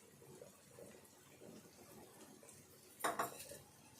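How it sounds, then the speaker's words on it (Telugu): A lid set onto a pan of frying onion upma, a single sharp metallic clank near the end over a soft background sizzle. "ఇప్పుడు మూత పెట్టుకోవాలి."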